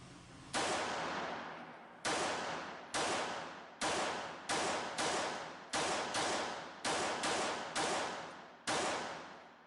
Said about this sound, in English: I thought I'd try some controlled rapid fire.